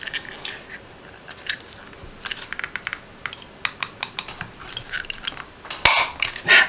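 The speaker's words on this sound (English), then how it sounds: "That was a hard punch because you know what? We got some heavy cardstock here." A paper punch cuts a small thumbprint notch into heavy cardstock during card making, giving a series of sharp clicks and snaps close by, ending in a louder, harder punch near the end, with no talking.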